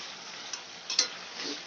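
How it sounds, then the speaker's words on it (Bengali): Methi chicken is stirred and sautéed in a pan for a Durga Puja dish, giving a brief steady sizzling hiss with a couple of soft spatula clicks near the middle. "ভালো করে কষাতে থাকবো আর এই জলেই মাংসটা আমার সেদ্ধ হয়ে যাবে"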